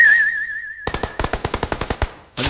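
Gunfire in the mobile game PUBG Mobile, a loud, rapid automatic burst of about a dozen sharp shots following a ringing tone, then one more blast at the end.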